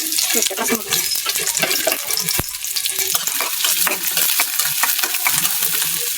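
Chopped onion hits hot oil for a fish curry, giving a loud, continuous close-up sizzle with scraping and clattering from stirring throughout.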